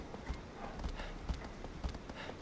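Hoofbeats of a horse being ridden along a forest path in the video game Shadow of the Colossus, a steady rhythmic clip-clop at an even gallop, soft and fairly distant within quiet ambience.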